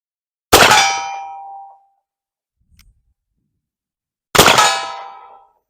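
A .44 caliber 1851 Navy percussion revolver fires with a delayed hang fire and strikes a steel target. Two loud ringing metallic clangs sound about four seconds apart, each decaying over roughly a second, with near silence between.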